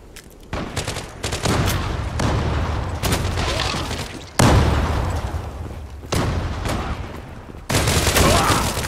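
Dense bursts of Zula video game gunfire and booms play loudly in several sustained stretches, separated by brief abrupt cuts.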